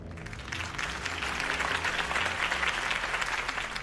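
A campaign rally audience applauding, a dense sustained wash of clapping that swells and holds for a few seconds, with no one speaking over it.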